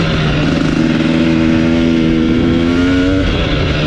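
A 2021 KTM 250 XC TPI two-stroke dirt bike engine revs up, loud and close, a steady buzzing drone whose pitch climbs through the gears with no speech.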